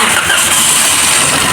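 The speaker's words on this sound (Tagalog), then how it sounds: "paanda rin na natin ang Toyota Vios" A Toyota Vios with a Dual VVT-i engine, just back from water pump, thermostat and radiator work, cranks and catches into a steady, loud, close engine run that continues without a break.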